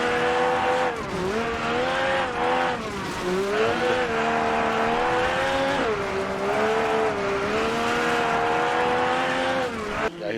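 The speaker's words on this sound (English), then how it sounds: "And now we're on board with Ahlin on stage 3, which was another run of stage 1" Onboard a rally car on a Border Counties Rally stage, the engine roars loud and close throughout, revving up and dropping through gear changes with road noise beneath.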